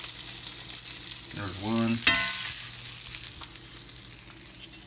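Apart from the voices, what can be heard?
burger patties sizzling as they go on the grill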